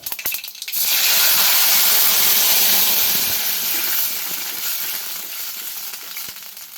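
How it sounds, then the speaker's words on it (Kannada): Loud, steady sizzling and hissing as cooked tomato and tamarind water hits a hot rasam tempering of garlic, curry leaves and mustard seeds, bursting in after a brief quiet start and slowly easing off. "ಬೇಯಿಸಿರೋದು ಟೊಮೊಟೊ ಹುಣಸೆಹಣ್ಣು ನೀರನ್ನ ಹಾಕ್ತಾಯಿದ್ದೀನಿ"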